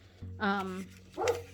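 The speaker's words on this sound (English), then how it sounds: "sorry about the dog" A dog indoors lets out two short barks, the first a drawn-out yelp and the second a sharper woof, fairly close and moderately loud.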